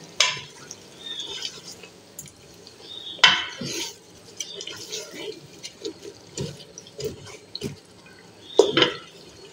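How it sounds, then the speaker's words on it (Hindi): Spices tipped into a pan while cooking Bhuna Gosht, heard as scattered clinks of a metal spoon against the pan and soft rustles, with a few sharper scrapes and taps, close and fairly quiet. "तो यहाँ मैं व्यूअर्स ये मसाले डाल दूंगी इसमें, ये सारे मसाले गए अंदर।"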